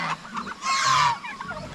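Guinea fowl in a crowded flock, including newly hatched keets, give repeated harsh honking and cackling calls that swell into one loud burst before settling back to scattered nearby calls.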